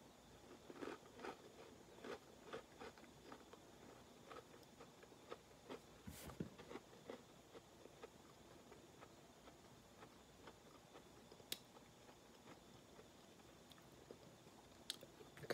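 Crunchy cinnamon and brown sugar breakfast biscuits being chewed, a quiet, close run of irregular crisp bites and crunches repeating through the whole stretch with no talk.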